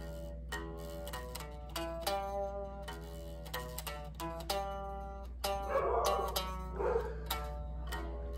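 A dog barks and yips in short bursts off in the background while loud guitar music plays over it, the barks partly masked by the strummed chords.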